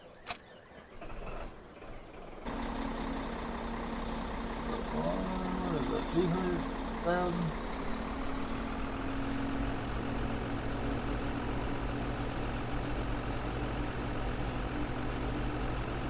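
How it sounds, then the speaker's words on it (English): Farming-game truck starting up, then a steady engine drone running nearby with creaks and faint mechanical tones, under occasional talk. "I'm gonna hop out and run over here and grab this other truck"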